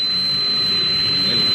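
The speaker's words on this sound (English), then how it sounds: "Turn on the drill with the tread stationary." Drill of a burrowing vessel running at full speed, a steady loud mechanical roar with a sustained high whine on top, constant throughout with no voices.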